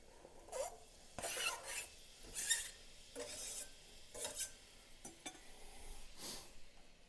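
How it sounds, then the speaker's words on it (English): Diced onions cooking in a skillet with a pinch of salt, a quiet sizzle under repeated scraping and stirring strokes from a utensil against the pan, spaced a second or so apart. "We're going to go ahead and we're going to put this into the skillet."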